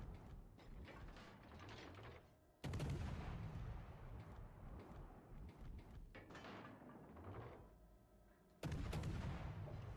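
Heavy naval gunfire from a destroyer in a warship video game, loud booming salvos at intervals with mechanical clanking between shots.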